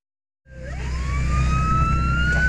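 A patrol boat siren starts up after a moment of silence during an illegal-fishing crackdown at sea, its tone rising then holding loud and steady over a low engine rumble.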